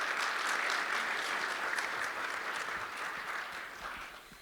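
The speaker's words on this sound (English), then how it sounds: "Let's give a round of applause for Jolana." Steady applause from a workshop audience greeting a land acknowledgement speaker, sustained clapping at moderate distance that fades slightly toward the end.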